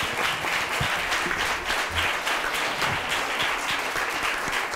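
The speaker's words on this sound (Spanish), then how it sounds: "damos un gran aplauso al profesor Bongo" A conference audience gives a professor a long, loud round of applause after Juan Carlos Saínz Borgo's talk, thick continuous clapping filling the room for several seconds.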